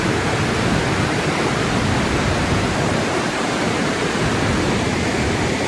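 Flash flood water roaring through Red Rock Canyon on the Ice Box Trail, a dense, unbroken rushing torrent that stays loud and close the whole time with no voices over it.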